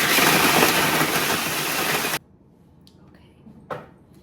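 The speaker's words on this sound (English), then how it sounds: "So it's going to be noisy for a second, but we are going to blend this." A loud, steady blender roars while blending pesto for about two seconds, then cuts off abruptly, leaving a quiet room with a brief clatter near the end.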